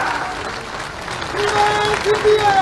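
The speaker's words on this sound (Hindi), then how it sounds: "अरे ये जोड़ा ताली में बजाओ की जोड़ा।" A crowd at a political rally in Gwalior claps steadily, and the applause swells toward the end while someone speaks loudly over it.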